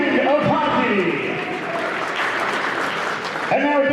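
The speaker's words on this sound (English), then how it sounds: "A round of applause for Dave for a great weekend of hockey." A crowd at a hockey tournament championship ceremony applauds the tournament director, steady clapping from many people in an arena, with a public-address voice heard over the start and end of the applause.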